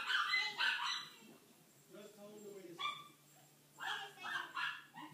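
Several dogs bark and yip in short bursts, loud and close, with whimpering in between, while people talk over and around the barking.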